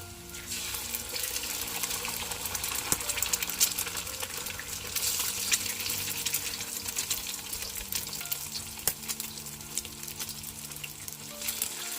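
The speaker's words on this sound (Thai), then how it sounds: "ต่อไปเราก็จะผัดบวบใส่ไข่นะคะ ตั้งกระทะเลยนะ" Steady loud sizzling of luffa and egg stir-frying in a hot pan, with occasional scraping and stirring clicks, continuous throughout with no talking.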